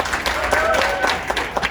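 Brief burst of audience applause for droid builders at a Star Wars: The Rise of Skywalker panel event at Dolby Soho in New York, moderate clapping heard from a distance with a faint voice underneath.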